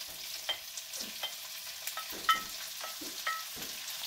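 Tomatoes being added and stirred into a frying cauliflower and potato curry: soft sizzling in the pan with repeated scraping stirs of a spoon, close and steady, no talking.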